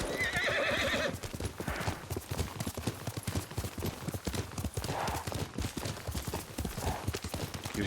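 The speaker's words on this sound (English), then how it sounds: "Yuriko's horse. She can't be far." Yuriko's horse in Ghost of Tsushima neighs near the start, then its hooves clip-clop in a steady rhythm that carries on throughout.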